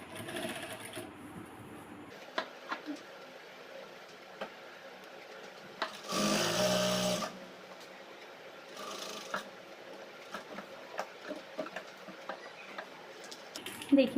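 A sewing machine stitches the corners of palazzo pants in short runs, with a louder burst of continuous stitching near the middle and quieter bursts around it. A light household background sits underneath.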